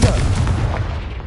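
Confringo and Bombarda spells erupt in Hogwarts Legacy, a short loud booming blast with a rumbling tail that decays within about a second, standing on its own.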